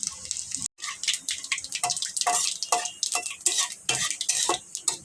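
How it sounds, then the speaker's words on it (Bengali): Whole garam masala, bay leaves and whole white cumin hit hot oil in a pan, crackling and sizzling hard in quick, close, irregular bursts with a few scraping stirs and a brief gap near the start. "তেলের মধ্যে এখন দিলাম গোটা গরম মশলা, 2টো তেজপাতা"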